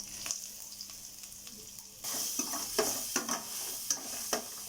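Curry leaves, chana dal, peanuts, cumin, mustard seeds and dried red chillies stirred in a pan, a quiet crackle that jumps into a louder sizzle halfway through, with scattered utensil clicks and no talk.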